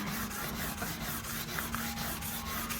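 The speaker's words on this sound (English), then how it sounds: "I'm just gonna sand it" Sanding a lacquer finish wet with paint thinner: a close, steady rhythmic rubbing of back-and-forth strokes at a regular pace, with no voices.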